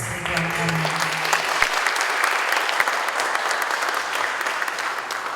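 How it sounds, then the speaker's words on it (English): An audience at an automobile safety conference applauds in a sustained, dense burst of clapping that stays steady and fairly loud throughout, while a faint voice trails off at the very start. "So please give a loud applause for His Excellency Mr. Ridwan Kamil."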